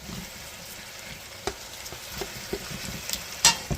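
Tomato paste sizzling in a pot with oxtails, a soft steady frying hiss punctuated by occasional light spoon scrapes and clicks, fairly quiet and without talking.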